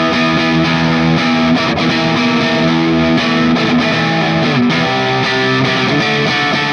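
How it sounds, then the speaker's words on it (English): Heavily distorted electric guitar through a Marshall amp simulator with a thick, throaty crunch, playing chords and riffs loudly and continuously with no voices. "I also just love like that kind of old school throaty Marshall sound"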